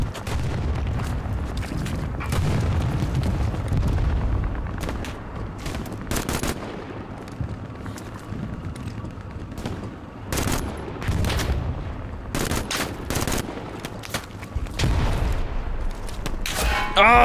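Katyusha rocket barrage explosions in the WWII shooter game Hell Let Loose, set at Stalingrad: a dense run of booms and blasts with sharp loud bursts. Gunfire is mixed in over the whole stretch, and someone speaks briefly.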